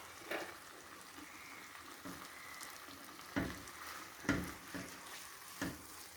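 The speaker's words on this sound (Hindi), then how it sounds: "भिंडी को आपने तब तक फ्राई करना है जब तक इसकी लेस ख़त्म नहीं हो जाएगी।" Okra and whole slit green chillies fry in oil in a pan, a steady soft sizzle with occasional louder stirring clatters, no voices.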